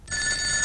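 A telephone rings with a bright, steady electronic bell tone that starts abruptly and holds loud and close without any talk.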